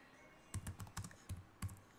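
Keys on a computer keyboard are tapped in short uneven bursts, about eight close clicks over a quiet background.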